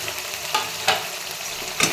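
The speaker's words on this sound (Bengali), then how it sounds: "আগে থেকে ভেজে রাখা পনিরগুলো এর মধ্যে এখন ছেড়ে দেব," Fried paneer pieces dropped into a pan of spices frying for palak paneer, giving a steady close sizzle with a few sharp splashy bursts and stirring scrapes, no voices.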